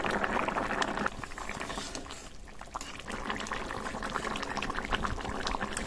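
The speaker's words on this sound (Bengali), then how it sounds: "চাপা দিয়ে সেদ্ধ করে নেবো।" Pumpkin green stems and potatoes boil in a covered pot, a steady close bubbling and hiss that eases briefly midway, then resumes at full strength.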